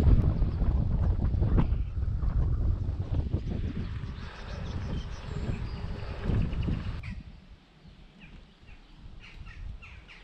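Gusty wind buffeting outdoors, loud rumbling blasts that swell and fade irregularly before easing into a calmer hiss near the end.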